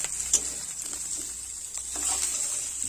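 Fish heads and spices being stirred and fried in a pan, a soft, steady sizzle with faint scraping strokes and a light clink, close and quiet, with no speech.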